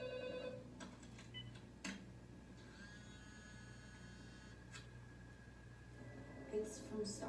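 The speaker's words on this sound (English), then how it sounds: "Why does the phone stop ringing?" A telephone rings repeatedly in a horror movie scene, its bell tones held steady at moderate level beneath a low background hum, with brief bursts of other noise and faint voices around it.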